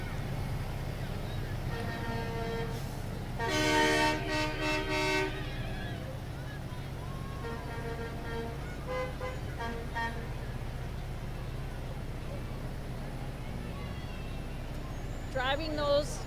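A snow plow truck in a holiday parade sounds its horn in a cluster of tonal toots, with a few more toots later and a final short blast, over a low engine rumble and outdoor ambience.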